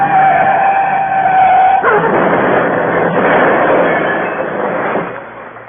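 A radio-drama car races downhill along a slippery road full of sharp curves at night, its loud steady engine roar swelling into a long tire screech as it takes a bend, then easing off.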